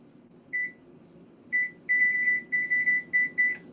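A kitchen timer being set while mushrooms are prepped for meal prep gives one short beep, then another, then a rapid run of close, clear beeps over a faint low hum.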